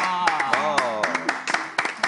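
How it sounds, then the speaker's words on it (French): A few sharp, spaced hand claps from a small group on a French talk show, sounding over a person's exclaiming voice, close and fairly loud. "Je me dois d'applaudir ça."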